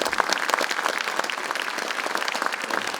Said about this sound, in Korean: 선배 동료 의원 여러분의 박수로 더불어민주당 국회의원 워크숍을 힘차게 시작하겠습니다